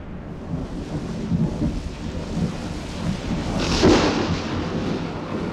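Steady rain patters beneath low, rolling thunder, with a deeper rumble swelling midway before fading back into the downpour.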